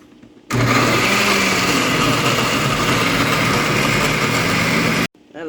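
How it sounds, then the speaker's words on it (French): A blender whirs loudly and steadily for about four and a half seconds, blending onions and pepper into a condiment paste, then cuts off abruptly. "nos condiments ils sont prêts à être mixés"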